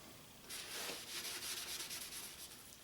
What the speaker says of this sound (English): Now I did sand the top